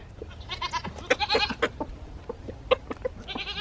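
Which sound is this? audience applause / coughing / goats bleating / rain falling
goats bleating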